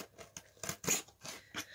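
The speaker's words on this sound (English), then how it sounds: "get out the very sharp knife and cut this baby open" A very sharp knife slicing open a cardboard box at an unboxing, several quick rasping cuts and scrapes in an uneven rhythm, close and crisp, no voices.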